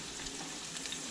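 Onions fry in a hot pan for a home Sunday supper, a brief, steady, close sizzle and hiss with no talk.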